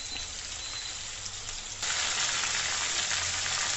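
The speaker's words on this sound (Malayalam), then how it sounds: "നല്ല വേകുന്നിടം വരെ വറുത്തെടുക്കണം" Chicken deep-frying in hot oil, a dense continuous crackling sizzle that jumps louder partway through and stays steady, with no voices.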